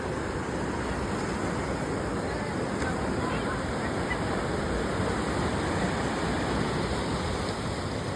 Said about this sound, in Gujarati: કેટલું બધું પાણી વહી રહ્યું છે અહીંયા